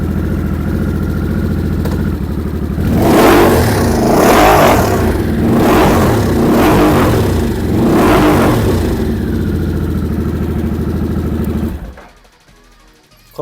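A 2023 Harley-Davidson Nightster 975 in club style idles, then its engine is blipped four times in a steady rhythm, loud and close, before settling back to idle and cutting off abruptly.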